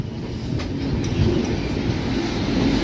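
A dense, continuous rumble of carriages comes from on board a train entering Erraguntla Junction railway station. Faint rhythmic clicks from the rails sit beneath a steady low roar.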